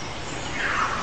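Lyrebird in forest imitating a camera with a motor drive, a brief close burst of dense mechanical whirring noise, steady and loud throughout about a second.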